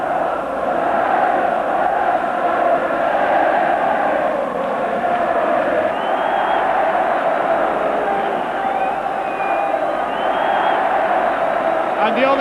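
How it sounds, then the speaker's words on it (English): A 1987 football match between Rangers and St Mirren ends as Rangers supporters fill the stadium with a huge, sustained roar of cheering, dense and unbroken crowd noise with faint whistles rising now and then. "As the stadium erupts in sound"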